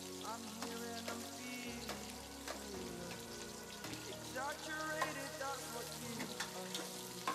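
Cloves and onion fry for chicken biryani, a soft continuous sizzle with occasional pouring and stirring sounds, partly masked by background music and a voice talking.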